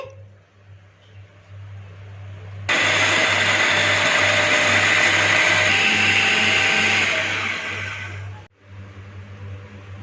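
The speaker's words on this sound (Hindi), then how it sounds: "इसको हम चॉपर में या ब्लेंडर में मैश कर लेंगे" A blender mashing tomatoes whirs loudly and steadily for several seconds, starting abruptly and cutting off, with a low motor hum before and after.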